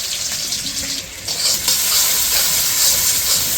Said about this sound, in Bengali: পেঁয়াজটা ভাজি করে তারপরে যা যা মশলা লাগে মাংস রান্না করতে সব কিছু দিয়ে কষে নেব।